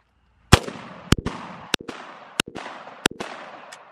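A World War II era machine gun fires several sharp, loud reports at uneven intervals, each shot trailing a short ringing echo outdoors.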